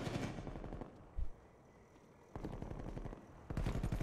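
Automatic weapon fire in Call of Duty Cold War league play, rapid bursts of close, loud shots that start, break off for a quiet moment, then resume in a second and third volley.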